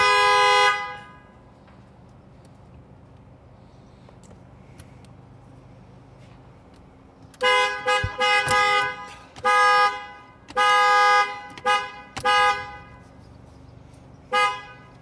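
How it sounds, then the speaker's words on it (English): Car horn of a 6th-generation Ford Mustang S550 tested after a steering wheel install: one honk, a quiet pause, then a burst of short and longer blasts of varying length, loud and close, with no talking. "Make sure the horn works. Multiple times you're gonna hear it because it's gonna be clicked."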